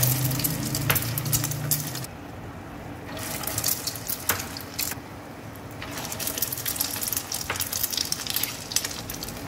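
Aloo tikki potato patties fry in a pan, a steady crackling sizzle with watery hiss that runs unbroken and fairly close, without any voices over it.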